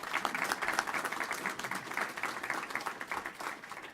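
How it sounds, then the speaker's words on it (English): Applause from a city council meeting audience marks a proclamation, a dense steady patter of many hands clapping at moderate distance that holds for several seconds without fading. "Give him a nice round of applause."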